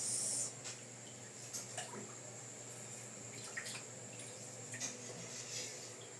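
Water runs from a kitchen tap into a nearly full container, a faint, steady hiss of flow with a few soft splashy bursts scattered through, heard alone without speech.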